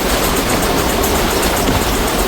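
Train 14735 from Sri Ganganagar to Ambala Cantt runs at speed, a loud, continuous rumble and roar of rolling carriages heard from on board.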